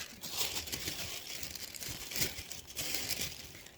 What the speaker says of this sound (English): Sorry, guys, for all the tissue paper noise.